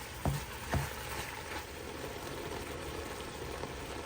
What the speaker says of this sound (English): I think I might remove this meat and set it aside and vegetables a pretty good browning and then dump it all back together.